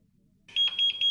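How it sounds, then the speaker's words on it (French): After a moment of quiet, a Rio Scanning laser hair-removal device emits a string of sharp, high-pitched error beeps in quick succession, loud and close. "l'appareil émet un double bip pour indiquer une erreur"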